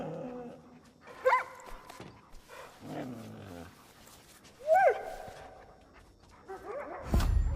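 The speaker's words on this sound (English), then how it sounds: "We gotta have to find out what the dog wants." A frightened dog in the video game Far Cry New Dawn whimpers and lets out short yelps and barks, scattered between game sounds and a voice speaking, ending with a sharp louder burst.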